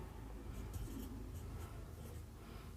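Chalk or marker scratching out numbers on a classroom board while a quadratic equation is written, a steady faint rubbing scrawl with small strokes and no talk.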